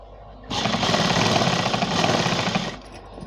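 Sewing machine stitching a blouse sleeve, fabric on top and sleeve underneath: a steady, close, rapid mechanical chatter that starts abruptly, runs for about two seconds and stops, with no talk.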